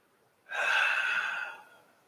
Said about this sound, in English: Really try and maintain your ujjayi breath.